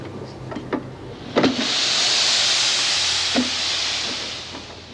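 Steam hissing from a laundry press in a prison laundry, a broad steady hiss swelling in the middle and fading away, with a few short clanks and knocks around it.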